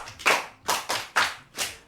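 A group of children and adults clap at a children's show, four or five distinct bursts of hand claps in an uneven rhythm, close by and clear with no voices.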